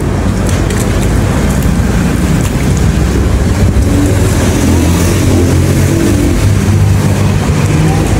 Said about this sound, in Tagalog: So yan, try natin buhusan ng tubig kung waterproof ba talaga.